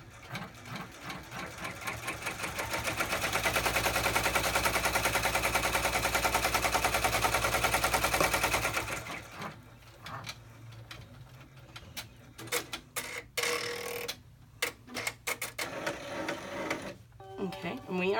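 Embroidery machine stitching an in-the-hoop cross body bag, a loud, rapid rattling hum for about nine seconds that then stops, leaving scattered quieter clicks and handling noises.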